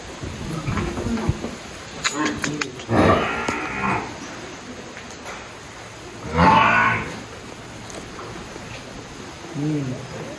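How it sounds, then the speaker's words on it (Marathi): A cow on a farm lowing in two loud, drawn-out moos a few seconds apart, with a fainter call near the end over soft outdoor background noise and occasional voices. "गरीब गाय ह्यालाच म्हणतात, जे की कधी बघायला नाही भेटत"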